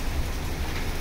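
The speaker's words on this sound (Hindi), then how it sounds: "अरे रिम झिम बारिश हो रही है" Light drizzling rain falls steadily outdoors, a soft continuous patter on surfaces with no voices, evenly textured throughout the short stretch.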